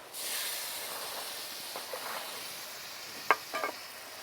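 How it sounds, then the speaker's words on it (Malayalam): Chopped tomatoes sautéing in a hot masala base for pepper chicken give a steady, close sizzling hiss, with a few sharp stirring clacks near the end. "ഇനി നമുക്ക് തക്കാളിയും കൂടി ഒന്ന് ചെറുതായിട്ടൊന്ന് വഴറ്റിയെടുക്കാം"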